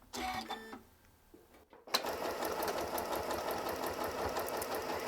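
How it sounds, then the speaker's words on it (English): A Janome M8 computerized sewing machine stitching with an automatic back stitch. A brief whirring run and a short pause lead into steady, fast mechanical stitching at close range, with no speech. "This will give you an automatic back stitch at the beginning."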